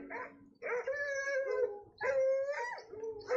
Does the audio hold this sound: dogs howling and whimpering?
yes